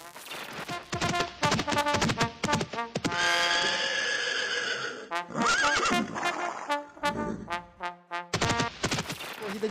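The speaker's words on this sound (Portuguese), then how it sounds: "A hora é de corrida de cavalo." Horse-race sound effect with a loud horse neighing and whinnying, mixed with rapid clip-clop hoofbeats and sharp bang-like bursts, busy and close with no talking.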